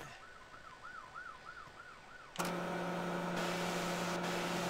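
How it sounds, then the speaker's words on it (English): An ambulance siren wails up and down in the distance, then is abruptly cut off by a loud, steady mechanical hum with a high whine. "Ambulance is coming by."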